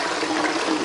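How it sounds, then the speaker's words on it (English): Water pours steadily into a countertop nugget ice maker, a loud, continuous splashing rush that stays close and unbroken throughout. "So now let's fill it with water"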